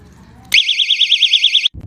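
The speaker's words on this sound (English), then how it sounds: "Personal alarm LED light." A personal self-defense alarm with an LED light sounds a loud, piercing warbling siren that rises and falls rapidly for just over a second, then cuts off abruptly.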